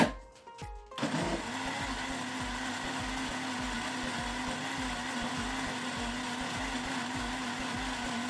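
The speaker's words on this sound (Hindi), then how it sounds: "ग्राइंडर की आवाज़ बता देती है कि मक्खन जो है वो ऊपर आ चुका है।" An electric grinder churns cream into butter with a loud, steady whirring motor hum that starts after a second of quiet handling and then runs evenly and close throughout.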